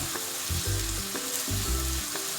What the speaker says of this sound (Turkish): sucuğumuzu tavaya koyduk. İki yönünü de kızartıyoruz.